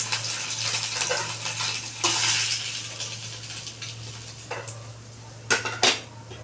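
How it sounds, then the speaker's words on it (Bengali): Small puti fish fry lightly in a pan with a soft background sizzle, broken by scraping and clinking of a utensil against the metal, with a louder cluster of clanks near the end. "মাছগুলোকে আমি বেশি ভাজবো না, হালকা করে ভেজে আমি তুলে নেবো।"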